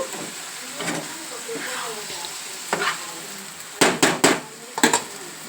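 Masala for a paneer and green peas curry sizzles and fries in a pan, a steady hiss with several sharp scraping stirs of a spoon against the metal near the end.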